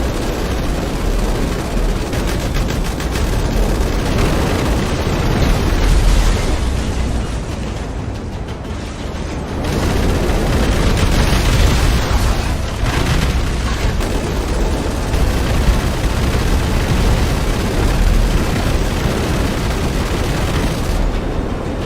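Video game combat in GTA with a dense, sustained roar of explosions and gunfire, loud and continuous throughout with a brief dip midway and no speech over it.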